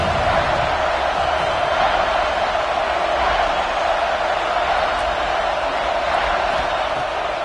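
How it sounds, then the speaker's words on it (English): A steady roar of a Buckeye stadium crowd cheering during a third down in a college football video game, a dense continuous wash of noise with no break. "The Buckeye crowd alive on third down."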